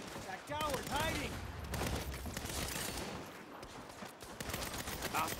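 Rapid bursts of gunfire in the Saints Row video game, dense and sustained across the whole stretch under a busy game soundscape, with a voice speaking partway through.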